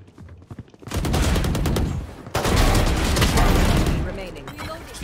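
Gunfire in the video game Valorant: two long, loud bursts of rapid shots that fill the clip, with a brief pause between them.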